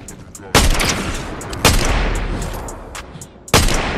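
Players fighting in Fortnite produce gunfire heard as three loud, sharp shots spaced a second or two apart, each trailing into echoing crackle and lighter background firing.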